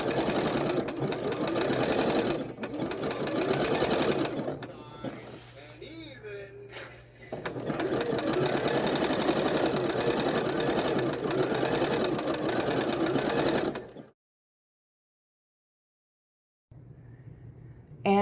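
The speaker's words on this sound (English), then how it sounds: "I'm using a zigzag stitch" Simplicity sewing machine stitching a zigzag seam, a rapid steady mechanical whir heard close up, pausing briefly midway, then resuming before falling silent near the end, with a voice speaking at times.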